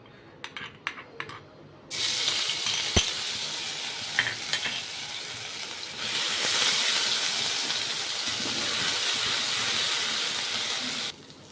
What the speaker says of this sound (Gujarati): સૌપ્રથમ આપણે એમાં આદુ, મરચાં અને લસણ વાટેલા છે તે એડ કરશું